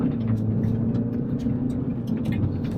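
MINI John Cooper Works petrol hatchback driven on a course, heard from inside with a steady low engine rumble and road noise; a faint voice occasionally surfaces beneath it.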